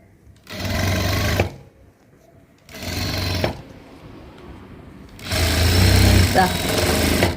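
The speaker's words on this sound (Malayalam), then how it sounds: "എന്നിട്ട് ഇതിനെ ഇങ്ങനെ തയ്ച്ച് വരണേ." A sewing machine stitches fabric for a blouse back neck in three rapid whirring bursts, the last one longest, close and steady, with someone speaking in the pauses between runs.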